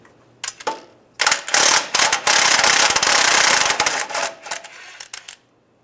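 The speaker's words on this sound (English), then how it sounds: "Take a 13mm socket, take this nut off right here." A 13mm socket ratchet loosening a nut on the rear main seal cover of a 2007-2013 Chevy Silverado, giving a few sharp clicks, then loud rapid ratcheting bursts that slow and fade, close up with no speech.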